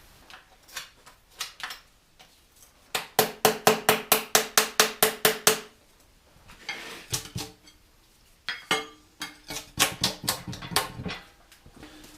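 A hammer raps metal repeatedly to break the gasket loose on a Caterpillar D2 engine during teardown. Sharp ringing blows land in rapid bursts of eight to ten strikes, with a few scattered taps in between.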